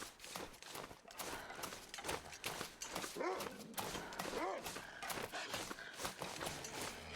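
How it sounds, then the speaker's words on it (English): A wolf in the survival video game The Long Dark, Interloper difficulty, gives a couple of short rising howl-like cries over busy, continuous game noise and footstep-like crunching. "Oh, there's a wolf right there."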